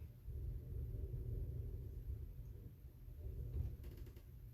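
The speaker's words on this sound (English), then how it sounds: "It sounds like a storm is blowing up outside." A low, steady rumble rolls on throughout, like a storm blowing outside heard from indoors, with no voices.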